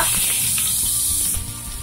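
Mustard seeds, cumin and onion sizzle loudly in hot oil, a bright steady hiss with faint popping that eases slightly near the end.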